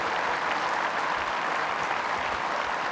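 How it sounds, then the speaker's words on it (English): A studio audience at a talk show on artificial intelligence applauds its guests, a loud, dense, unbroken wash of clapping that holds steady throughout. "one more round of applause for all of our guests."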